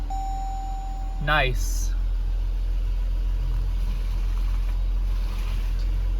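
A 2026 Dodge Durango GT engine cranks with a quick rising whir after a push-button start, then settles into a steady low idle near the microphone; a chime sounds before the crank and someone speaks briefly.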